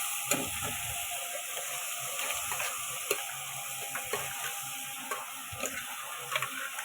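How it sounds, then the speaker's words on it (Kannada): Sambar ingredients frying in a pan, a steady soft sizzle with scattered small pops and clicks, close and fairly quiet, with no voice. "ಇದು ಫ್ರೈ ಆಗ್ತಾ ಇದೆ."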